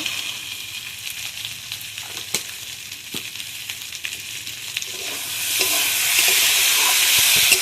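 Potatoes with cumin powder sautéing on a stove, a low crackle with sharp stirring clicks that swells into a louder, steady sizzle partway through.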